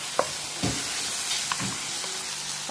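Food fries in a pan while tomatoes are added, a constant loud sizzling hiss with a few soft knocks and clinks from stirring, no speech.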